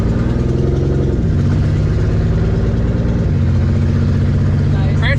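An old Toyota 4Runner engine runs in low gear, a loud steady low drone with shifting pitch steps as it labours, heard close throughout.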